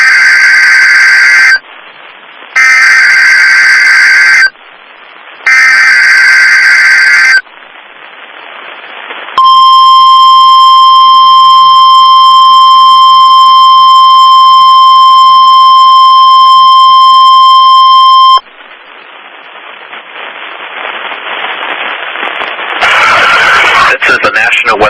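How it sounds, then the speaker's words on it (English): A NOAA weather radio weekly test: three loud bursts of EAS data tones, then a long, steady, piercing warning alarm tone lasting several seconds, followed by rising static and noise, very loud. "The warning alarm tone and the emergency alert system have just been activated."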